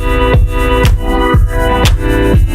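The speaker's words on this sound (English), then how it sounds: "So how does side chaining or ducking sound like?" A loud electronic house-style track from an MPC groove box has side-chain ducking, so the sustained pads pump and dip in volume with each kick drum in a steady, rhythmic pulse.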